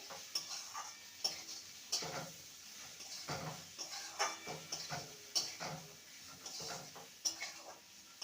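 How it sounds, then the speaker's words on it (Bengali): Spatula scraping and stirring fried bitter gourd and potato with spices in a pan, irregular clinks and scrapes over a faint sizzle, close and moderately quiet, no talking. "এবার ভেজে রাখা করলা আর আলুকে দিয়ে দেবো মশলার সাথে ভালো করে মিশিয়ে নেব"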